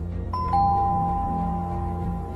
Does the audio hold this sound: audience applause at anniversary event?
no